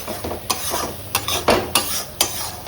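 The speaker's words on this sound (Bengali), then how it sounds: "একদম শুকনো শুকনো করে কড়াইতে নাড়বো।" Spatula scraping and stirring food in a wok over heat with a steady frying sizzle, about five sharp metallic scrapes at a regular pace, close and loud, no talk.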